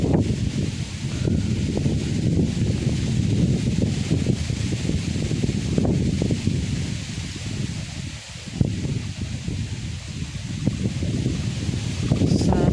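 Steady wind blowing across the microphone, a continuous rushing and buffeting with leaves rustling, no voices.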